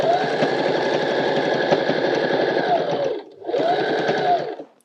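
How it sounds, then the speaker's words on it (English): A sewing machine sews a soft toy seam with a 5mm allowance, its rapid, rhythmic needle chatter loud and close, cutting out for a brief pause before running on again and stopping. "And then sew all the way round with a generous 5mm seam allowance"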